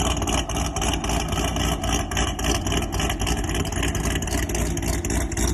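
A Corvette ZR1 or ZR6 car engine running steadily, a loud, dense mechanical rumble with an even pulsing rhythm, close by and continuous without talk.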